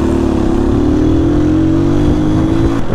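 A motorcycle engine droning close by in city traffic, a steady loud hum with slight pitch rise throughout, cut off abruptly at the end.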